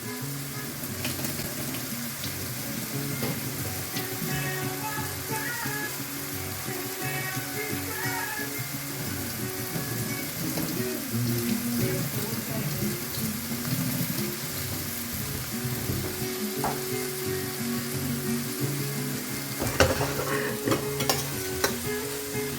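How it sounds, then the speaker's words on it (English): Chilli con carne frying in a pan, a loud, steady sizzle with scraping and stirring throughout, continuous and close, with occasional clatter from a spatula. "So you want it to be frying and getting that reaction going."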